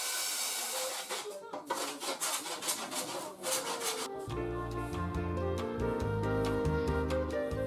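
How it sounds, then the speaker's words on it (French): Plywood sheets being cut against a template in a boat workshop, a rasping sawing sound with rhythmic strokes, then a steadier, louder machine-like cutting drone takes over partway through. "je découpe, grâce au gabarit, les différentes plaques de contreplaqué, support des nouveaux vaigrages."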